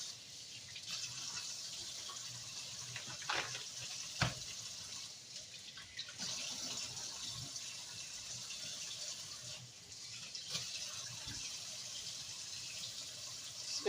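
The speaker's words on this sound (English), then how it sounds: "Fill it up with water here." Tap water runs steadily into a pot holding rinsed meat, a soft continuous gushing hiss with a few brief splashes and clunks, heard fairly quietly and without talk.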